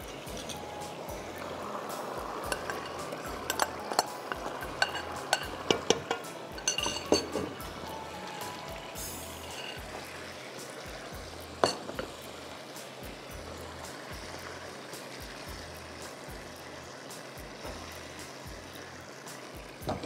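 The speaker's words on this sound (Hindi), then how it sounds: "मैरिनेटेड चिकन डाल रही हूँ मैं इसमें" Marinated chicken goes into a thick, browned masala in a pan and is stirred. Metal utensils clink sharply and irregularly against the pan over a soft, steady wet background.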